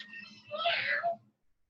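A child imitates a cat with a drawn-out, wavering meow, moderately faint and rising in the middle before fading, over a low background hum.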